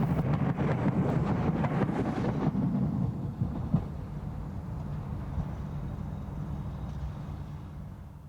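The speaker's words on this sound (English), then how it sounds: "Another pair of 313s is seen at Hatfield Station" A pair of Class 313 electric trains at Hatfield Station on the East Coast Main Line gives a loud, close rumble that eases after about three seconds into a lower, steady running drone.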